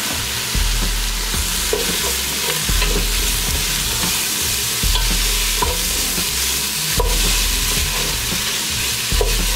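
Shrimp and squid are stir-fried for spicy Korean-Chinese seafood soup, a steady loud sizzle with repeated scraping and tossing strokes of a utensil in the pan.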